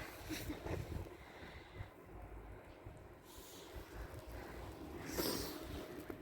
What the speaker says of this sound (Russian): Ветер такой порывистый.